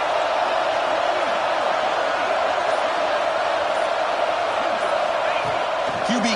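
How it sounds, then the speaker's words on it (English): Stadium crowd noise swells in a college football video game, Ohio State versus Michigan, as fans roar to rally the defense for a red zone stop; a steady, loud wash of cheering throughout, with a commentator talking over it. "here comes the noise. This crowd is trying to inspire this defense to make a big red zone stop."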